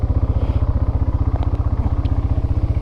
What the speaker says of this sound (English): As you can hear, it's idling really good.